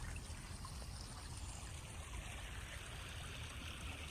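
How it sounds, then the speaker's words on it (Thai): Water drains from a flooded rice paddy after a storm, a faint, steady rushing trickle with no distinct events, heard alone in an open outdoor setting. "นี่จะปล่อยน้ำออกครับ"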